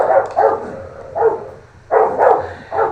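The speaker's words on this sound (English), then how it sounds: "my dogs are making so much noise." Several dogs bark in loud, close bursts at home, a cluster of quick barks, a pause, then another run of barking, with no talking.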